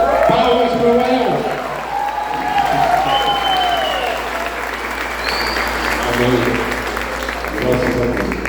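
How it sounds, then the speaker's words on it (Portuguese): A congregation at an evangelical church family service applauds a member, sustained crowd clapping throughout, fairly loud and close, with voices calling out and speaking over it. "Palmas para o El!"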